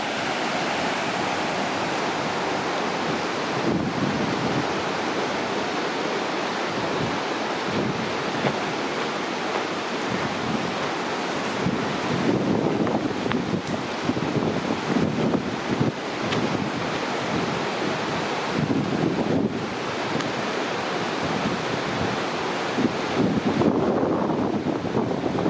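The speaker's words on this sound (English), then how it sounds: "down there, the mighty, swollen Rocky River." Steady broadband rushing of the swollen Rocky River at Berea, continuous and fairly loud, with wind buffeting the microphone at times.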